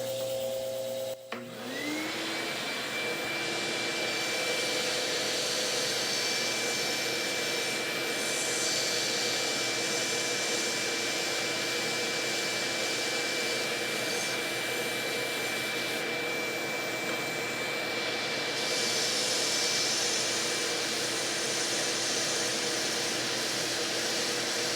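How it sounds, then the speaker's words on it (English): Paint is sanded off the tip of a golf club shaft with a powered tool, giving a continuous, steady whine and hiss that runs close and unbroken throughout. "now let's get the tips sanded. We're just trying to take the paint off."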